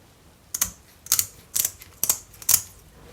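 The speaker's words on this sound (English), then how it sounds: "I'm just gonna trim the tail just a bit," Scissors snip through the tail of a raw tilapia fish in a kitchen: five crisp, close cuts spaced about half a second apart, with no talking.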